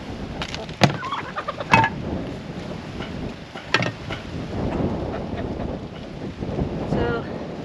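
Chickens clucking and calling in scattered bursts close by, with wind buffeting the microphone throughout.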